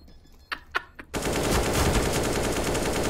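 A few sharp single shots give way to sustained rapid automatic gunfire in a Counter-Strike match. The firing is loud and close, with no one speaking.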